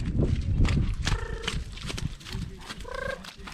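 Hooves of a limping horse clip-clopping at a walk, a close, uneven run of thuds mixed with snorts and soft tonal sounds, no speech.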